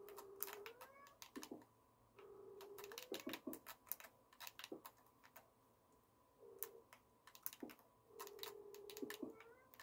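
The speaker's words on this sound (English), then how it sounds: "My cat's meowing outside my door." A cat meows repeatedly outside a door, several rising calls at a moderate distance, mixed with steady computer keyboard typing clicks and no talking.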